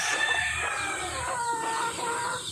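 Backyard chickens and chicks on a farm in the Philippines cluck and cheep continuously at close to moderate distance, several birds overlapping with high-pitched peeps, no talking.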